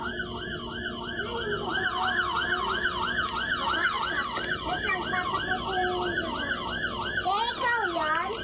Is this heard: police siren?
yes